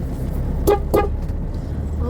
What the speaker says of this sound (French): On klaxonne.